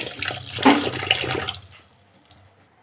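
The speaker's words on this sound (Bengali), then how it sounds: "এবার চাল নিয়েছি চালটা ধুয়ে ভাত বসাবো চালটা ধুয়ে নেব" Rice is washed in water, a short burst of close sloshing and splashing that fades quickly, with a small drip afterwards.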